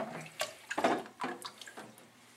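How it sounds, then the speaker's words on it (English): Wort splashes and gurgles in short, uneven pulses as it is poured slowly into a fermenting bucket while homebrewing American amber beer, close and fairly quiet. "Transfer our wort to our fermenting bucket. Pour slowly"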